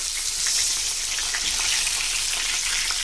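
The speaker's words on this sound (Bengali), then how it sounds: "আমার মাছটা ভাজা হয়ে গেছে, ভালো করে ভেজে নিয়েছি, এবার তুলে নিচ্ছি" Dense crackling sizzle of fish frying in oil, close and constant, like light rain on a surface.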